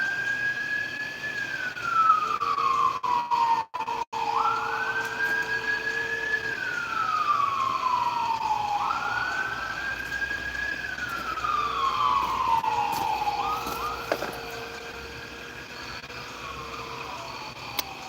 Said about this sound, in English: sirens. That's gonna get loud.